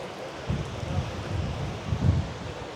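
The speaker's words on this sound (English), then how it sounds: "But yeah, back into this wind." Strong wind gusts buffet the microphone on a beach in Gran Canaria, a low, rumbling roar that swells in a few surges over steady broadband noise, with no voices.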